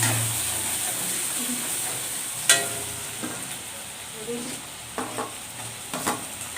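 Onions fry in a pan for a spicy chicken masala, giving a steady close sizzle with a few sharp clinks and scrapes of stirring scattered through.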